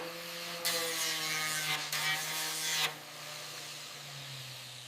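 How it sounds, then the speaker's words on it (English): Sandpaper rubs over dried body filler on a 1987 Buick Grand National GNX in a workshop, giving two bursts of broad, hissing scratching strokes over a low steady hum, then the rubbing stops. "Sandpaper smooths the dried filler."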